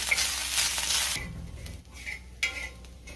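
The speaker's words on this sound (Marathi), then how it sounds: "आता ह्याच तेलावरती मी खोबरं सुद्धा तळून घेणार आहे" Coconut sizzles and crackles steadily as it fries in oil, with a brief scrape of a utensil stirring partway through; no voices.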